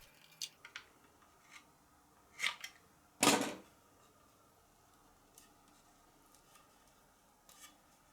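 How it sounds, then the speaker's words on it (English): Utility cutter slicing dried carpenter's glue along a corner, a few quiet scraping cuts with a longer, louder scratch in the middle, then faint ticks in a quiet room. "I will use a cutter to cut the carpenter's glue against the corner."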